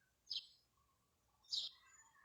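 Two brief, bright bird chirps from a wall and a tree ring out about a second apart, with soft faint twittering in between, no voices present.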